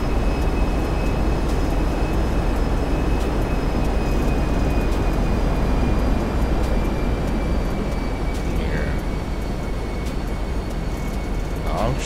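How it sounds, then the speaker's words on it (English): Airplane flyby in GTA 5: a steady, loud broadband engine roar holds for the whole stretch with a thin high whine above it, while faint voices talk underneath. "I'm probably just gonna do a flyby."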